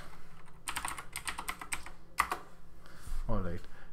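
Computer keyboard typing in short bursts of clicks while a folder is named, followed near the end by a brief voiced sound.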